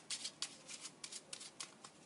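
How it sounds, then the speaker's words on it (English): A deck of playing cards is shuffled, giving a quick series of crisp riffling bursts in close succession, near and fairly quiet. "now I'm going to give the deck a little shuffle."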